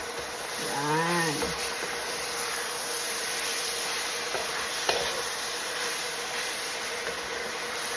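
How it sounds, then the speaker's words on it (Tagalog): Chili and garlic sautéing in oil in a pan, giving a steady close sizzle with occasional stirring scrapes and a brief tonal sound near the start, with no speech. "Ang sili at ang bawang. Gisa lang ng konti."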